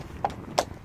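A horse walking gives two distinct hoof clops about a third of a second apart, moderately close and fairly soft, with no voices.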